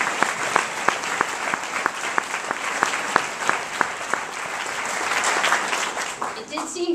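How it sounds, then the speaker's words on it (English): Clapping from a small audience at a tolerance fair opening speech, sharp rhythmic claps standing out clearly over a scattered patter of other hands, fairly close and moderately loud, with some voices underneath. "I think we owe him a great round of applause"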